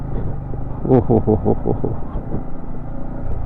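A Yamaha MT15 V2 motorcycle in first gear on a muddy mountain road in Pangi, with a steady engine rumble and a brief burst of throttle pulses near the start, while a rider exclaims briefly.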